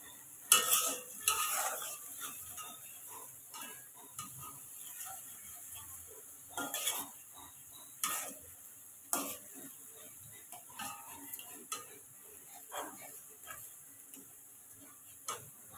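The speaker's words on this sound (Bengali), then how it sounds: "5 মিনিট মতো আমি কষিয়ে নেব মশলাটা, যাতে কাঁচা গন্ধটা না থাকে" Spice masala for a prawn and potato curry is stir-fried in a pan, with faint sizzling under scattered scrapes and taps of a spoon against the metal, quiet and close.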